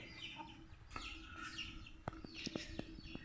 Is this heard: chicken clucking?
yes